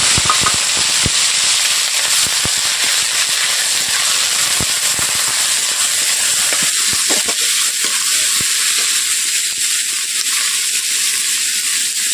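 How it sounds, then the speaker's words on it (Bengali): Onion, garlic, ginger and chopped tomato fry in hot oil in a kadai, giving a loud, steady sizzle with sharp crackles and pops that thin out toward the end. "ওতে আমি দিয়ে দিচ্ছি পেঁয়াজ, রসুন, আদা, টমেটো কুচি একসঙ্গে।"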